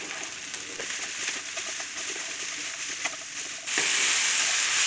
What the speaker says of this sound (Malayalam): നമുക്ക് ശകല ഉപ്പ് കൂടെ ഇട്ട ശേഷം വാട്ടിയെടുക്കാം